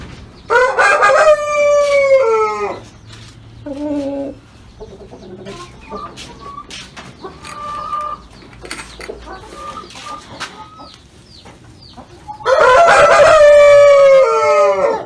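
Brahma chickens on a breeding farm in the early morning: loud roosters crow at the start and again near the end, with scattered clucking and softer fowl calls in between.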